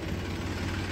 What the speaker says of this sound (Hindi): भाई का ट्रैक्टर चल दिया है